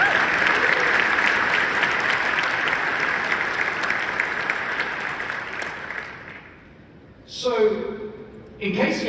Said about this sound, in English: Let's have another big round of applause please for our artists